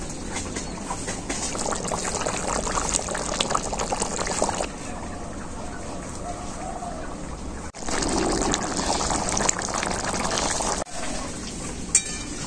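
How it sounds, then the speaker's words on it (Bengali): Chicken curry gravy bubbling and simmering uncovered in a pan, a steady wet bubbling and hissing texture that runs continuously and fairly loud, with a brief change in intensity partway through. "খুব ভালো করে ঝোলটা ফুটে গেছে।"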